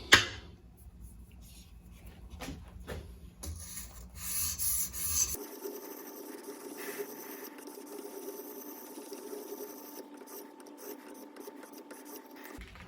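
A knife blade being sharpened, with faint, close, steady scraping strokes running continuously over a quiet background.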